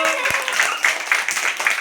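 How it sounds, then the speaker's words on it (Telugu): A classroom of fourth-grade schoolchildren claps for a classmate: close, dense applause with many overlapping hand claps, sustained and fairly loud throughout. "పుష్పాంజలికి చప్పట్లు కొట్టండి అందరూ"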